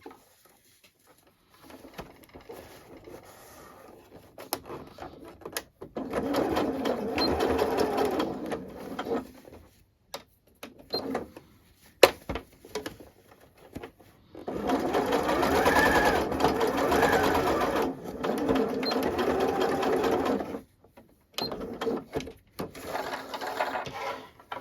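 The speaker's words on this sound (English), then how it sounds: "set your machine back to a normal straight stitch to close up the hole" A sewing machine runs a normal straight stitch to close up a hole while finishing an elasticated cuff, in two long steady bursts of motor whir separated by short pauses and small mechanical clicks.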